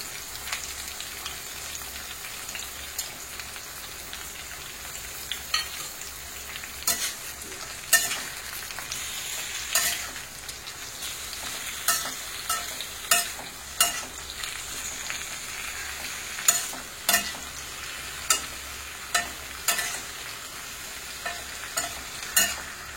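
Jaggery stirred into cooked sweet potato slices in a pan, a soft continuous sizzle broken by a regular run of sharp scraping clicks from the spoon against the pan, close and with no talk.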